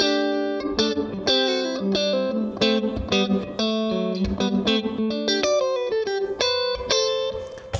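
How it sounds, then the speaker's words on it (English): Electric guitar played through a Red Plate RP5OR small valve amp cranked into a tweed broken-up tone, loud strummed chords and picked notes in a continuous riff, alone without talk. "if you have a small valve amp and you start to crank it a little bit, we start to get those broken up sounds"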